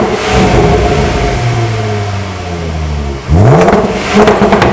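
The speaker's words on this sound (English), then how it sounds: "I didn't know it spit and crackled that much." A Jaguar F-Pace with a Supersprint exhaust idles, then its engine is revved hard, climbing sharply with popping, crackling bursts from the tailpipe, loud and close.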